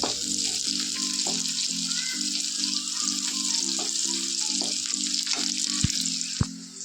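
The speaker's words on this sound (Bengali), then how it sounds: "মধ্যেখানে তেল দিয়ে আমি রসুনটাকে ভেজে নিচ্ছি" Garlic sizzling steadily in hot oil in a pan, a dense continuous frying hiss with light stirring clicks and a couple of sharp knocks near the end, no voices.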